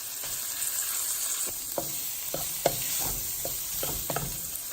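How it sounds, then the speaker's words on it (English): Beaten eggs poured into a pan of frying shrimp, a steady close sizzle with repeated soft scrapes and taps of a spatula stirring through it. "And now you want to add the eggs."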